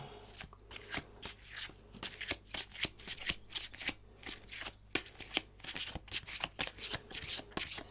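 Tarot and oracle cards are shuffled by hand in quick repeated bursts, crisp close riffling and flicking with brief pauses between handfuls.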